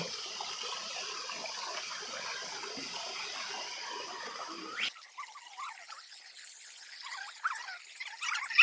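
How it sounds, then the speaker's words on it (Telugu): Water splashes and trickles steadily at close range as it is sprinkled on heads at the Srikalahasti temple, with a sharp cut midway, then quieter scattered drips and splashes. "తలపై నీళ్ళు చల్లుకో శాను"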